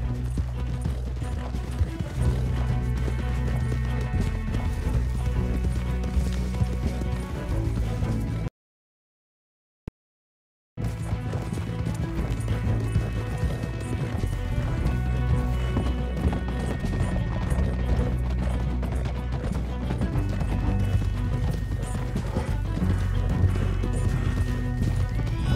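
Hooves clip-clop rapidly as horses gallop in Red Dead Redemption 2, a steady rhythmic pounding over a dense background, broken by a brief silent gap midway.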